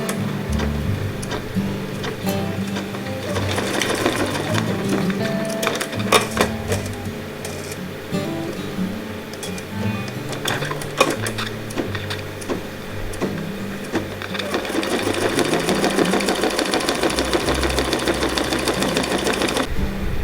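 An embroidery machine stitches out a placement line for a sea turtle coin pouch, sounding as a continuous busy mechanical ticking and whirring with irregular clicks and clatters throughout, no talking.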